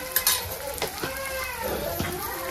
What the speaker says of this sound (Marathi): आता हे सगळं मी हलवून घेणार आहे।